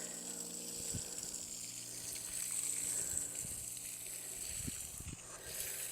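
Water from a hose soaks a garden bed of ranunculus, making a faint, continuous rushing flow broken by a few soft low thumps.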